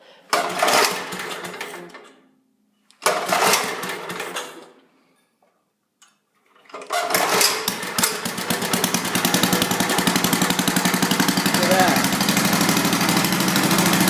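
A vintage Troy Bilt Horse tiller engine is pulled twice, sputtering briefly and dying each time, then catches and settles into a loud, steady, close running chug.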